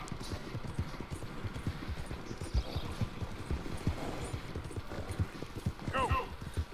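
A horse gallops in the video game Red Dead Redemption 2, its hooves pounding in a fast, steady rhythm close by, with a short whinny near the end while a person talks over it.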